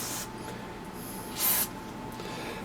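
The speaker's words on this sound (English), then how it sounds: "We'll just spray the contacts with some deoxit." Short hissing bursts of DeoxIT contact cleaner sprayed onto the board contacts of an FT-101 radio, a few spaced puffs with one longer spray in the middle and a sharp click at the end, close and quiet without speech.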